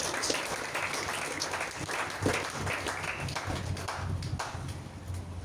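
A church congregation applauding to acclaim the Lord, steady scattered clapping at moderate distance, fairly quiet, with a few louder claps standing out and no clear talk over it.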